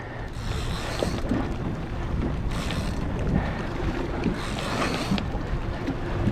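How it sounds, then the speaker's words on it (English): A boat's engine drones steadily beneath wind buffeting the microphone and water rushing past the hull, with no talking. "Just got the boat in gear."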